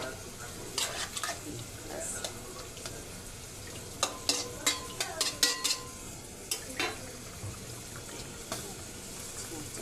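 Fish dropped into a pan of simmering, well-cooked curry with water added, giving a low steady sizzle broken by a run of sharp clinks and scrapes in the middle, close and moderately loud, with no talking.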